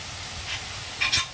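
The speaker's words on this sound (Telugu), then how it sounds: "చక్కగా వేగాయండి మన ఉల్లిపాయ, టమాటో" Onion and tomato fry in a pan for mutton paya, giving a steady gentle sizzle with a couple of brief spoon scrapes and stirs near the end, close and fairly quiet.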